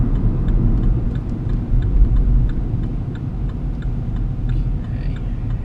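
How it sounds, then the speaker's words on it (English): The turn signal inside a car ticks faintly at a steady even rhythm. The clicks sit over a loud low engine and road rumble while the car is being driven. "Centre mirror, right signal"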